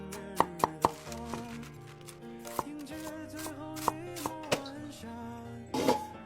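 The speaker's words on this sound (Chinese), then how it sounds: "我把青菜切好来" Knife chopping fresh green bok choy-style vegetables just picked from a garden for bun filling, several sharp irregular chops on a board at close range over a steady background of music, with a louder burst of cutting near the end.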